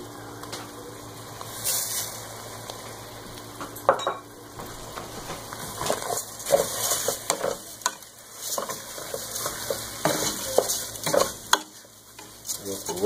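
Rice being stirred in a hot frying pan, a steady soft sizzle with repeated scraping and clinking of a utensil against the pan, close and fairly quiet.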